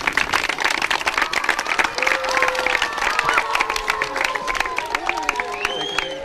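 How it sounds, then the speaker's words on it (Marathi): Applause and cheering from a school audience after a correct quiz answer, dense clapping sustained throughout with a few shouts and voices mixed in, loud and close. "जोरदार त्यांच्या टाळ्या."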